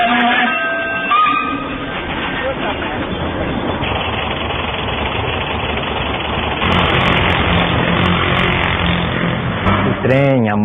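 Engines of a train, a motorcycle and a car run loud and steady the whole time, with a rumbling idle and a rising revving tone near the end, and a voice talking over them.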